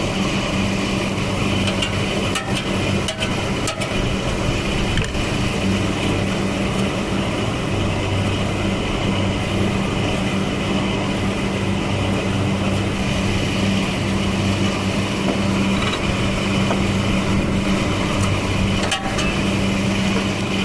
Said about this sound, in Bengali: এটা মোটর